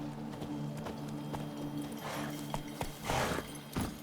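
Geralt's horse Roach trots in The Witcher 3, a steady clip-clop of hooves over a constant low hum of game ambience, with a few louder hoof thumps and gear rustles toward the end.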